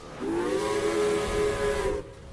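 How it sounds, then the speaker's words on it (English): A steam engine's whistle blows loudly in one sustained, steady tone of about two seconds, alone and close. "Then Hero whistled loudly."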